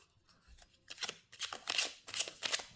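A deck of oracle cards riffled and shuffled by hand at close range, soft papery bursts building into a few quicker rustling flurries, quiet with no talking.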